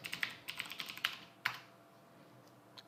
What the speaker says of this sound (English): Type in our password.